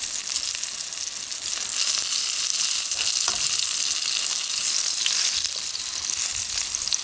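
Eggplant slices coated in glutinous rice flour fry in a preheated pan over high heat, giving a steady, close, loud sizzle that runs unbroken, with faint spatters and no talking.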